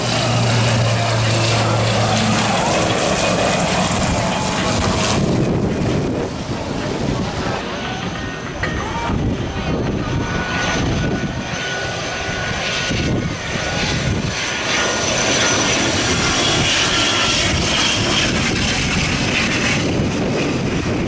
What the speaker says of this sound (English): right about now we have another aircraft